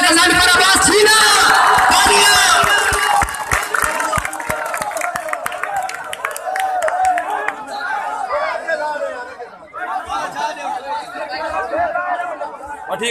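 A rally crowd cheers and applauds loudly, dense clapping and shouting at first, then settling into steady chatter and scattered claps with voices over the top.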